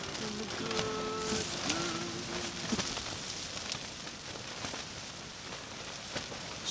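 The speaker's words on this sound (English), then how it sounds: "No, I don't have anybody out there shaking the tent, folks. It's the Aleutian wind." Aleutian wind storm in Alaska buffets a tent, the fabric rustling and flapping in a steady, dense rush with occasional sharper gusts; a voice speaks briefly over the noise early on.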